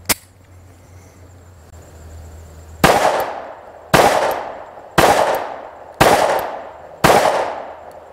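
Five sharp 9mm shots from a Springfield Hellcat pistol, fired outdoors at an even, leisurely cadence of about one per second, each loud crack trailing off in a short echo.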